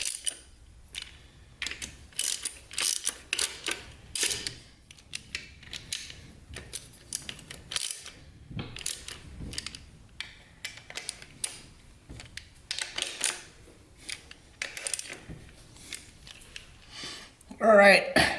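Small metallic clicks, ticks and taps as TH400 transmission pump bolts are threaded in by hand, close and intermittent, with someone talking over the work.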